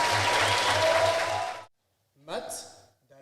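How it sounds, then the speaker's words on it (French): Audience applause for a contestant at a university eloquence competition qualifying round, a loud sustained burst of clapping that stops abruptly, followed after a pause by someone speaking. "Applaudissements pour Jonathan, s'il vous plaît."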